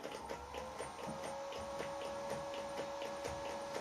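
A machine is jogged in short, gentle steps to start a thread during an air rifle gas ram repair, giving quiet, regular ticking pulses over a steady whine, faint and close, with no speech.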